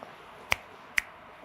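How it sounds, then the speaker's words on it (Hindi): Two crisp finger snaps, about half a second apart, sharp and close against a quiet room. "2 बार चुटकी या 3 बार चुटकी व्यक्ति बजाएगा"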